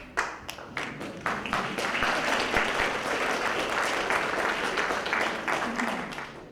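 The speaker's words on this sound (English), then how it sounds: "Sorry to cut across the applause." Audience applause at a community convention, a dense sustained wash of many hands clapping that swells after a few sharp early claps and carries on steadily with faint voices underneath.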